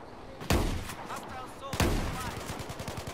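Enemy gunfire in Battlefield 4 on the Paracel Storm map: two heavy, booming shots land about a second apart, each ringing out with a long echoing tail, followed by faint rapid firing and background voices.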